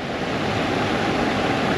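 Fast-moving water in a little orange-colored stream over rocks along the Great Divide, a loud continuous close rushing roar without pauses or voices.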